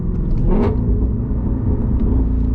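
A Ford Mustang Shelby GT350R engine rumbles low and throaty at close range, with a brief rise in revs partway through over a steady idle.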